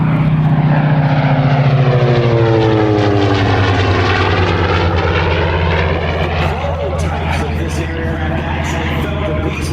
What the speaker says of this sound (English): Diving in from the left, once again, we've got the SB-2C Helldiver.